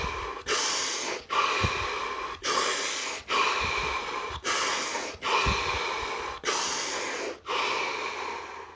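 Slow, deep human breaths repeat in a steady rhythm, eight long inhale-exhale cycles close to the microphone, each airy and full with brief pauses between, no talking.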